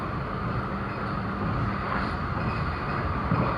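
The Gajahwong train in Indonesia rumbles steadily along the rails at about 110 km/h, a continuous low roar with rattling, heard from inside a moving carriage.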